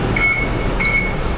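Elevated train in Bangkok running above the city, a steady close rumble of wheels on rail with brief high squeals rising over it, no talk.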